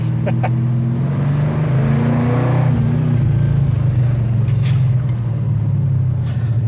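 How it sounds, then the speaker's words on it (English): A 1970s Dodge Charger V8 revs while cruising, its deep loud rumble holding steady and close throughout, with engine pitch swelling midway before settling back to a constant drone. "So I just get the revs up just to cruise around with."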